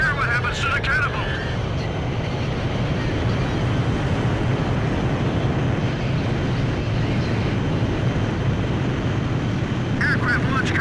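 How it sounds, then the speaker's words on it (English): Aircraft roar from a carrier catapult launch in Ace Combat 5 fills the scene as a loud, steady engine and wind rumble, with radio voices talking over it. "Aircraft launch confirmed."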